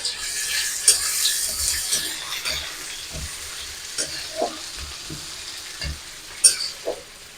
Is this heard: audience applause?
no